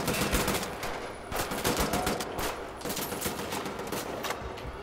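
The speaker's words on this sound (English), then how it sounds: "I've still got people shooting at me" Enemy gunfire in the shooter game Wolfenstein, a steady stream of rapid shots and bursts that keeps rolling through the whole stretch at fairly even loudness, with no talking over it.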